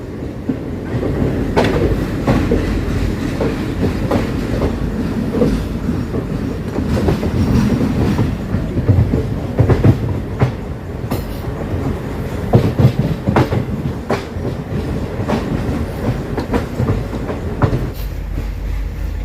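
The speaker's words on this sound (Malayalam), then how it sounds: "വേളാങ്കണ്ണിയിൽ നിന്ന് 690 കിലോമീറ്റർ കവർ ചെയ്ത് ട്രെയിൻ ഇപ്പോൾ ഇതാ എറണാകുളം ജംഗ്ഷൻ റെയിൽവേ സ്റ്റേഷനിലേക്ക് എത്തിക്കൊണ്ടേയിരിക്കുകയാണ്" A passenger train from Velankanni, hauled by an ALCO diesel locomotive, rolls into Ernakulam Junction station with a steady rumble and rhythmic wheel clatter on the rails, loud and continuous, with no voices.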